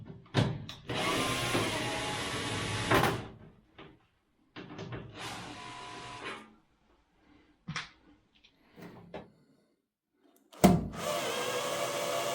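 A power tool whirs in short bursts, driving out Torx screws from a dryer's side panel, each spin separated by quiet pauses and small clicks and clatter of parts, close and fairly loud, with no talking.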